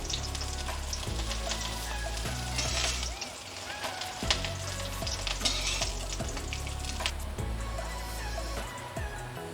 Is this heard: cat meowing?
no